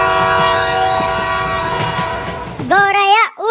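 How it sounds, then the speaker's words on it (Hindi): A cartoon train whistle blows loud and close after a steady rumbling train passage, its wavering tone sliding up and down near the end. "तो जल्दी ट्रेन की सीटी बजाओ।"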